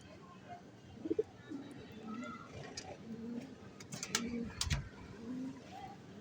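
Racing pigeons cooing in a loft, soft low coos repeating at moments amid background talk.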